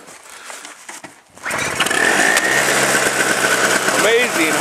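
Old two-stroke John Deere engine cold starting after sitting idle, with choke pulled: a brief crank, then it catches and roars into a loud, rough, steady running drone, with people talking over it.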